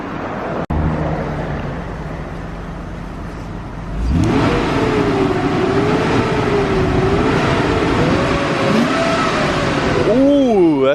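A car engine being treated with Seafoam idles steadily, then revs up about a third of the way in to a louder, sustained droning exhaust note that wavers in pitch, recorded close with a sharp click early on.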